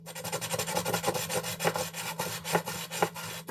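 Filing or sanding the threads of a custom lightsaber hilt to fix clocking, a close, steady scraping with rapid back-and-forth rhythmic strokes throughout.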